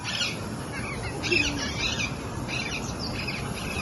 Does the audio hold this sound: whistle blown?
no